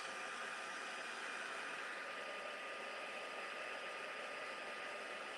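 A handheld heat tool blows steadily while heat embossing a card. The airflow is a soft, even whoosh that carries on unbroken, with no speech over it.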